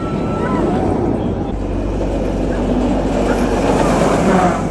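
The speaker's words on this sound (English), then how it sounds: "The train's here." The Busch Gardens amusement park train arrives with a steady low rumble and rolling mechanical noise, loud and continuous throughout, with faint crowd sounds in the background.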